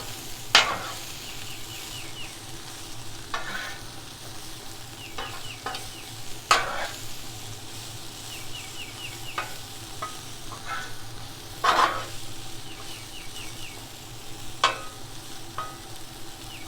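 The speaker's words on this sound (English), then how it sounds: "do a single layer so that you can get the crispiness of the griddle on the green beans" Green beans and Brussels sprouts sizzle steadily on a hot griddle, a continuous crackling hiss broken by a few sharp scrapes and clicks as the vegetables are stirred and spread into a single layer.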